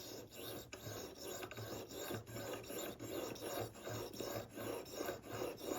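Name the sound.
honing a blade on a sharpening stone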